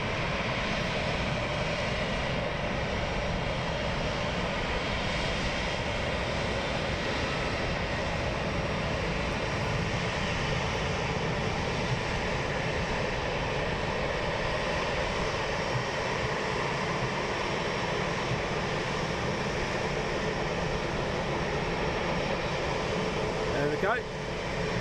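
A fixed-wing airliner taxis onto its stand at London Luton Airport while being marshalled in, its engines giving a steady, loud whine and rumble that holds for the whole stretch, with voices faintly underneath.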